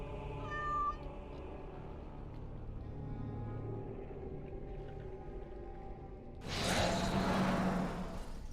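Sir Pouncelot, a cat in Dragon Age Origins Awakening, lets out a brief meow near the start over a low ambient game drone, followed later by a broad whooshing swell.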